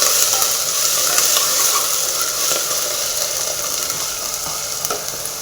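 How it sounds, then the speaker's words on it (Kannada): Half a bunch of washed coriander leaves frying in a pan for pulao, giving a steady, loud hiss of sizzling oil with faint stirring scrapes throughout, no talking. "ಅರ್ಧ ಕಟ್ಟು ಕೊತ್ತಂಬರಿ ಸೊಪ್ಪು, ಇದನ್ನೂ ಅಷ್ಟೇ ನೀಟಾಗಿ ಫ್ರೈ ಮಾಡ್ಕೋಬೇಕಾಗುತ್ತೆ ನಾವು"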